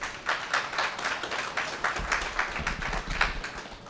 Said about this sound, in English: So let's have another round of applause to that great panel.